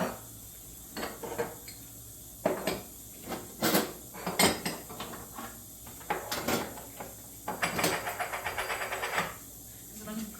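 Metal gas stove grates are lifted off and set down during a kitchen deep clean, giving a series of loud clanks and scrapes with a rattling stretch near the end, mixed with occasional talk.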